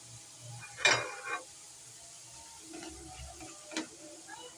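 Chickpea split dal frying in hot oil on a low flame, a few brief bursts of sizzle and scraping stirs against a quiet background, with a louder scrape near the start.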